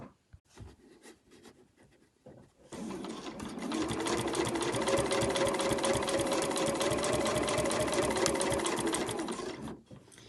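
A sewing machine runs steadily and loudly for about seven seconds while stitching a mitered corner on a fabric machine cover, following a few quieter handling sounds at the start.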